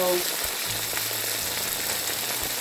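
Constant crackling sizzle of beans frying in a hot pan, close and fairly loud, with a low hum running underneath.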